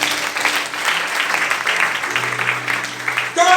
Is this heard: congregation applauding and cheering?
yes